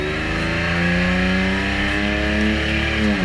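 A race car on a super lap at Circuit of the Americas, its engine roaring loud and sustained at high revs with a rich harmonic drone that shifts pitch slightly as it accelerates, with no voices over it.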